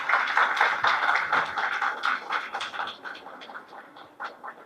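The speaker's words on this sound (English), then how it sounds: "A big round of applause for all the artists." Applause for the artists at a cultural New Year celebration, with scattered, uneven clapping from a modest audience that thins out gradually toward the end.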